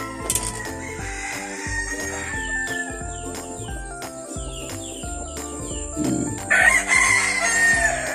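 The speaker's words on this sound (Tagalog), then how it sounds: "Kasi ito, ito yung woodcock hen ko." A woodcock hen and other chickens make clucking and crowing calls in a backyard, with a rooster's crow rising clearly near the end over steady background noise.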